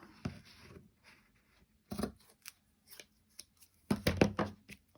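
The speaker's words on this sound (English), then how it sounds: "We'll just snip a bit off." Scissors snip through paper during a craft project making a hidden paperclip holder, a few separate crisp cuts spaced apart with quiet gaps, close and fairly soft.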